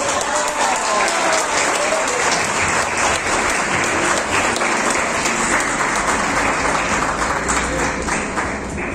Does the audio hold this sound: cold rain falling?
no